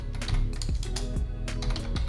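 Typing on a computer keyboard at a desk, a steady run of close, crisp key clicks with uneven rhythm, heard alone without speech.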